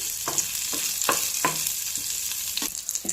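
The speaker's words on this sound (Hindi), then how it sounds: "अब इसके अंदर हम ये 4 सूखी लाल मिर्चें डालेंगे और तड़के को खूब अच्छे से फ्राई कर लेते हैं।" Dried red chillies frying in a hot tadka for Punjabi-style sarson ka saag, a steady sizzle with repeated stirring clicks and scrapes throughout, close and fairly loud.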